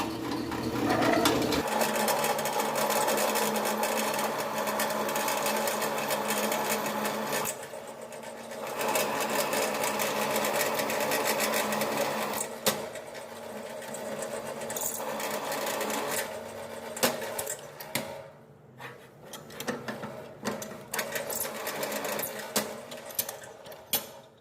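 A milling machine cuts a counterbore pocket for a bolt head while making a bench vise, giving a steady close mechanical whir that continues for the whole stretch, with brief dips and a few clicks near the end.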